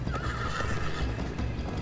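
A horse neighs loudly and close in the Minecraft Story Mode game, a drawn-out whinny over a steady low rumble of hooves, with no talking.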